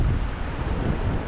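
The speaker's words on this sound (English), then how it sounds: "it's still blowy, but it's sheltered" A strong gale buffets the microphone at the sea shore during a storm, a loud, continuous low roar of wind noise with no talk.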